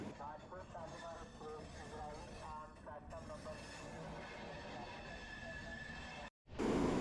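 Continuous rumbling and rattling of the East Coast Express train moving through Odisha, with a voice speaking over the steady noise before a brief cut near the end.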